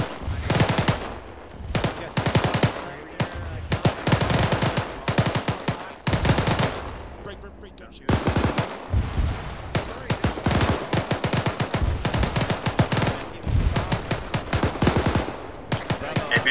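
Gunfire in the Arma 3 military shooter video game, a fast volley of machine-gun bursts and single shots cracking near and loud across the whole stretch, with only brief gaps between strings of rounds.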